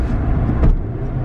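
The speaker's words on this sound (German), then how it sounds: "Vierter Gang. Und schalten wir mal rüber." A car's engine hums steadily up close as the driver shifts into fourth gear, with a brief surge partway through, in a car with a failing gearbox only two months old.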